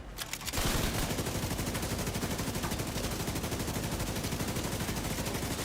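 Sustained automatic fire from an LMG in The Division 2, a dense, rapid, evenly spaced rattle of shots that starts after a short lead-in and keeps going loud and unbroken to the end.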